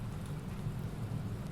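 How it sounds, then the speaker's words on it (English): Rain striking an Aegean Airbus A320 in Prepar3D v4.5 flight simulator while flying through a rain cloud, a steady dense hiss and low rumble throughout with no talk. "Now we're actually in the rain cloud. You can see the rain."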